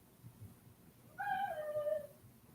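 A house cat meows once, a clear rising-then-falling call of about a second, fairly close and alone over a quiet room background.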